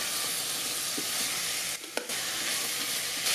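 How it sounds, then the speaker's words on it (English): Onions, garlic, ginger and green chilies sauté in oil with whole spices in an Instant Pot Duo Mini, giving a steady, even sizzle throughout with a brief dip and a small clink near the middle. "Saute until golden brown."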